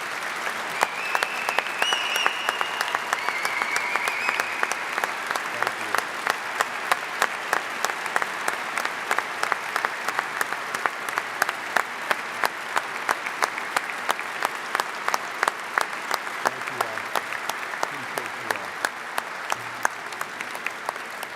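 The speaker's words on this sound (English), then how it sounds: "give these brave men and women a round of applause" An audience at a police chief's swearing-in ceremony at City Hall applauds, a dense, steady crowd clapping that continues evenly for around twenty seconds without a break.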